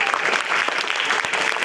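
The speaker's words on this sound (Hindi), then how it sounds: "अरे सारी एक बार ताली बजा दो रसमलाई के लिए।" Children clap together at a youth group gathering, a dense, lively burst of applause filling the short stretch at close range, with faint voices mixed in.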